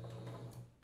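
Sewing machine running in reverse to backstitch cotton tricoline fabric for a Christmas fabric rug, a short steady mechanical whir heard close and alone.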